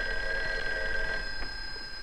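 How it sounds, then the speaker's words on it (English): An old telephone bell rings in a home, one steady metallic ring lasting about a second and a half before fading, moderately loud with no talking. "Hey, that's your phone, Uncle Bill."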